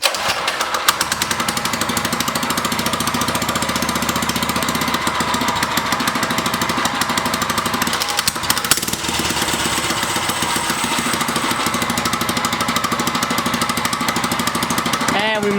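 A small engine idling steadily after a broken centrifugal clutch repair, a loud, close, continuous rattling putter with a rapid even pulse and a brief dip partway through.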